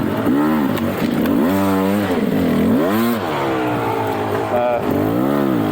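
A 2021 Beta 300 Race Edition two-stroke dirt bike engine while riding, loud and close, rising and falling in repeated revving sweeps as the throttle opens and closes.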